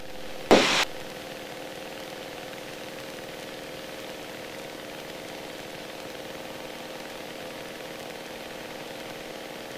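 Steady, even drone of a light aircraft engine at cruise power heard from inside the cockpit, constant and moderately loud after a brief click at the start.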